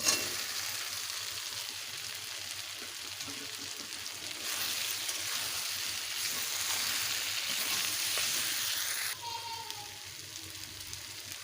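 Fried potatoes and soybean chunks land in hot spiced oil for a soybean-potato curry, giving a steady broadband sizzle that runs through the whole stretch, with a brief quieter dip near the end.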